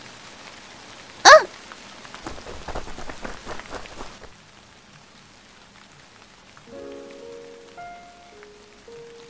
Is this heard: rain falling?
yes